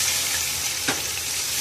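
Whole spices and ground masala frying in a pan for chicken kabsa, with a steady loud sizzle throughout and a brief burst of extra hiss as a little water hits the hot pan near the end.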